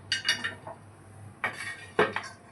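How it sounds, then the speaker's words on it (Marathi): A metal tawa griddle lifted off a kitchen stove, giving a few bright clanks and scrapes in separate bursts, close and fairly quiet, with a low hum between them. "आता आपण आपला तवा उतरवून घेऊया"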